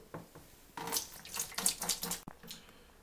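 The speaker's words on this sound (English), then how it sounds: "this water here was heated on an alcohol stove, and so we're going to get that into the bucket" Hot water, heated on an alcohol stove, pours into a bucket for an off-grid winter wash, a quiet irregular splashing gush that swells and dips for a few seconds.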